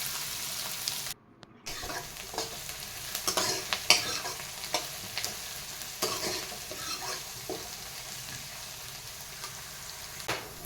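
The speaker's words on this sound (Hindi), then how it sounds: "फिर मैं इसमें अब प्याज डाल रही हूँ और इसको अच्छे से ब्राउन होने तक" Onions frying and browning in a pan at home, with a soft continuous sizzle broken by repeated scraping stirs of a utensil, close and moderately quiet, with no talking.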